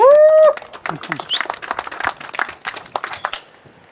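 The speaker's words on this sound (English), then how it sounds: "Round of applause" A crowd applauds with scattered clapping that fades, following a short tone at the start.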